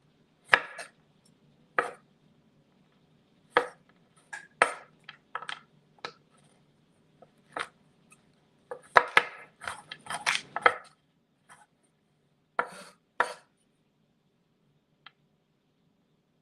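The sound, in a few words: knife chopping candy on board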